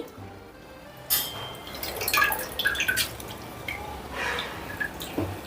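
Water splashes and trickles into a cooking pot in uneven bursts, close by, with scattered drips between pours and no talking.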